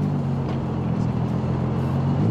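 A Toyota Supra passes at Daikoku PA car meet, a steady close engine drone mixed with dense traffic and parking-area rumble.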